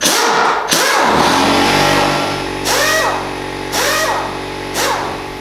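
A small Fortress air compressor kicks back on with a close, loud motor clatter, running in several surging bursts that rise and settle in pitch, with brief hissy breaks between them.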